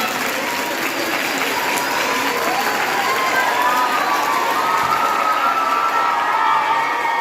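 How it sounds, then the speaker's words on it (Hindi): A school audience at a hockey program and cycle distribution event claps loudly and steadily, mixed with cheering and children's shouts throughout. "आप जोरदार तालियों से सबका अभिनंदन"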